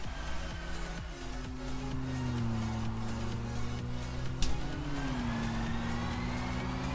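Electric engine of the Solar Bow car in Test Drive, a steady whine that rises and dips in pitch as it accelerates, loud and continuous with no talking.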